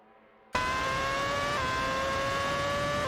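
Video-game racing cars, a McLaren MP421 and a Williams WD28, roar in after a brief quiet start with a loud, steady high-pitched engine drone that shifts pitch slightly partway through, with no voices.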